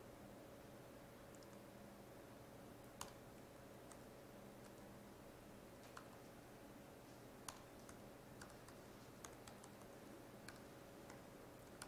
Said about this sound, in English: Sorry, new laptop and the keyboard sucks.